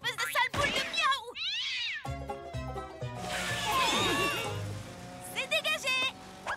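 A cat meows a few times near the start and again at the end, with loud voices and clattering noises in between.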